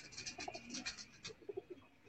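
Pigeons kept in pairs on a rooftop loft coo and call in soft, repeated bursts, fairly close and moderately quiet, with faint background noise throughout.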